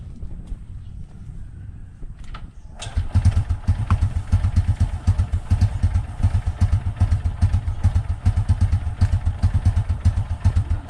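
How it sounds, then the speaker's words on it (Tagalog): A carburetor-type Honda XRM 125 motorcycle roars to life after a few kick-start thumps, settling into a loud, close, steady engine chug with rhythmic pulsing that continues throughout. "tignan natin kung makailang sipa tayo bago siya namamatay"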